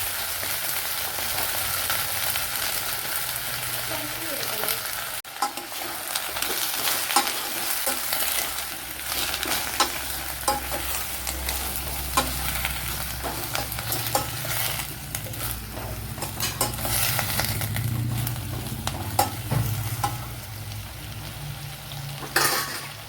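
Brinjal pieces frying in a pan with fenugreek seeds, a dense steady sizzle with repeated spatula scrapes and light clatter, close and continuous throughout.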